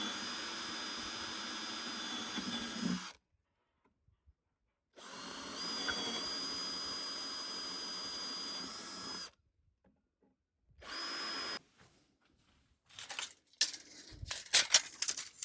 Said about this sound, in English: I drill a couple of holes extra in the bottom boards.